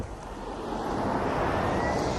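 A Tesla Model X electric car accelerates hard in a takeoff test, producing a steady, rising whoosh of rushing air and road noise that builds gradually with no engine roar and no voices.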